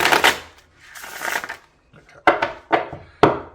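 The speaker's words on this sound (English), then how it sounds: "I'm just going to sort of shuffle again" Tarot cards being shuffled by hand, a few rustling riffles followed by sharp separate slaps and snaps, close and fairly loud.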